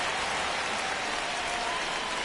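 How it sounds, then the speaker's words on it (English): Baseball stadium crowd in MLB 25 during a tense ninth inning, a steady dense roar of cheering that holds level throughout, filling the space with no talk over it. "Crowd locked in right now."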